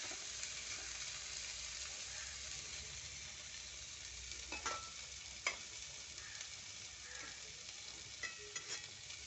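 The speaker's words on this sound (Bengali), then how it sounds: "গ্যাসের ফ্লেমটা বাড়িয়ে দিয়ে ভালো করে ভাজা ভাজা করে নেব।" Fried rice with soy sauce, potato and carrot stir-fries in a pan over a high gas flame, giving a steady soft sizzle broken by a few sharp spatula scrapes and taps, with no talking.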